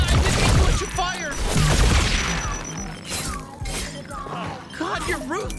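Weapon fire in the video game High On Life comes as sharp, crashing blasts and splattering impacts early on, followed by chirpy alien gun chatter and bursts, all mixed under excited talking.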